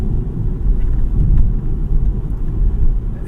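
A 2024 BMW 318i with a 2.0 engine pulls hard on the road, its deep, steady low rumble filling the cabin with a constant drone that swells slightly as it accelerates.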